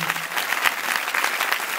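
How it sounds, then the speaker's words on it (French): Steady applause from an audience, dense clapping throughout at a moderate level with no talking. "On peut les applaudir"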